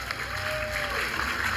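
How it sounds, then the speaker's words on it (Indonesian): An audience's applause, a continuous crowd clatter of clapping held at steady level with a faint voice tone passing through. "Tepuk tangan dulu untuk kita semua."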